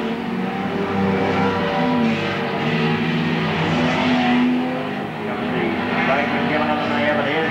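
Speedway race cars howling around the track at Charlton Raceway in the 1980s, several engines layered in a loud continuous roar that swells and dips as they pass, with a commentator's voice running over it.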